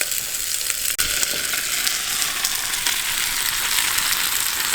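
Three slices frying in a hot pan for a Camembert burger: a loud, dense, continuous sizzle up close, with a brief knock near the start.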